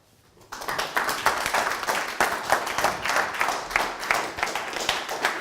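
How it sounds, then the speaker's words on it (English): An audience at a talk on social networks bursts into clapping after a brief quiet moment, then keeps up steady, dense applause for about five seconds with no talking. "You're very kind clapping"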